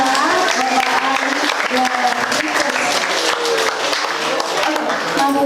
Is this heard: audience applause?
yes